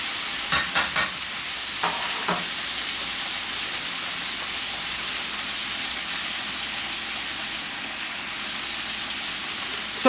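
Cube steak fries in a pan over high heat, a steady broadband sizzle and hiss that runs the whole time, with a few sharp clinks or taps near the start.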